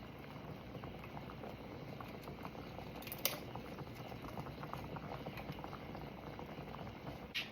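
Steady low bubbling and rolling of water at a boil, continuous and fairly faint, with a soft clink partway through.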